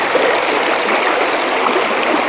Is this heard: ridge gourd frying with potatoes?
no